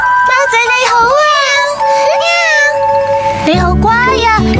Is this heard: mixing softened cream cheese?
no